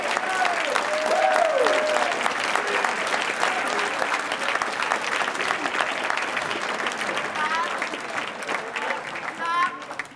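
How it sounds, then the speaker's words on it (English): Sustained applause from a seated audience at a high school athletic hall of fame dinner, dense steady clapping that fills the room for about ten seconds without pause. "Let's give them a big round of applause."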